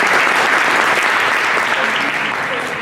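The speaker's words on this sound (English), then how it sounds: "Please give them a round of applause." Steady, loud applause from an audience at an African American history celebration in Haledon, New Jersey, dense clapping sustained throughout without speech.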